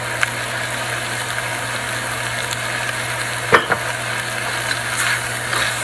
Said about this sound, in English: Now add in your fish sauce.